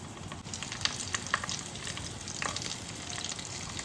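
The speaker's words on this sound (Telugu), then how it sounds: "ఇది కొంచెం ఫ్రై అయిన తర్వాత ముందుగా స్టఫ్ చేసుకున్న వంకాయని దీనిలో వేయాలి." Stuffed brinjal, guttivankaya, frying in a pan of oil with cumin, a steady close sizzle running throughout with a few soft clicks of movement and no voices.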